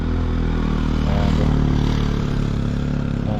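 A 2024 KTM Adventure 250 motorcycle engine holds a steady, loud drone in sixth gear at about 5,000–5,500 rpm while cruising at 100 km/h, with continuous wind and road rumble and no talk.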